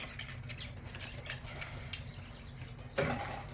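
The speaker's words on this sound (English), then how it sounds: "we just want to mix it all to where all the pieces are all mixed nice together" A spoon scrapes and clinks through a thick possum pie filling in a bowl, soft steady stirring under a low kitchen hum, ending in a brighter metallic knock.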